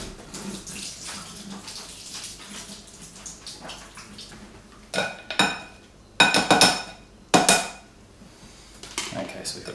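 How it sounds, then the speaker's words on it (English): Tap water runs over two tins of drained lentils in a strainer at a kitchen sink, a steady broadband rush with a few louder clattering bursts of metal and dishes partway through. "give them a quick rinse under the tap"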